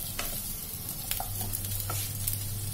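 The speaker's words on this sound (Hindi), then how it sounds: "तो चलिए इन्हें हम अच्छे से फ्राई कर लेते हैं।" Potatoes for dum aloo fry in oil in a pan, giving a steady soft sizzle with occasional light stirring clicks and scrapes, heard close with no talking.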